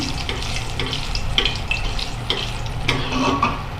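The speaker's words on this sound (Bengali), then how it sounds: "তো এখন আমি মরিচগুলো একটু ভেজে নিচ্ছি হালকা করে, শুকনো মরিচ।" Dried chillies frying lightly in a pan, giving a steady close sizzle with scattered crackles and a few clinks of stirring, with no talking.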